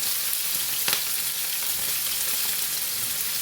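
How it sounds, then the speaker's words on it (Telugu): Ivy gourds dropped into hot oil with green and dried red chillies give a steady, loud hiss of frying that fills the whole stretch, with a brief sharper crackle near the start and no talking. "చూడండి, నూనె కాగిందనమాట. అందులోకి పచ్చిమిరపకాయలు అలాగే ఎండుమిరపకాయలు వేసుకున్నామండి. అవి వేసిన తర్వాత అలాగే దొండకాయలు కూడా వేసేద్దామండి."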